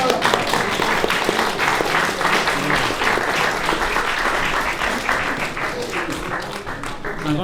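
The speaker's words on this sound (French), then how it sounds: "On peut peut-être applaudir quand même." Dense, sustained applause from an audience at a trophy ceremony marking the Vélo Club de Rouen's 150th anniversary during the 2019 Paris–Rouen vélocipède ride, steady and loud throughout with voices mixed in.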